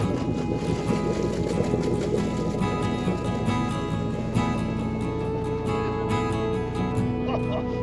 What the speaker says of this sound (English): Good old Ford engines.